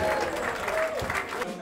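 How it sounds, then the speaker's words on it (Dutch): Audience at a carnival event clapping, a short burst of crowd applause with cheering voices mixed in, moderately loud and close, fading after about a second and a half. "Graag uw applaus voor Maarten en Henk van In de Lijst 11."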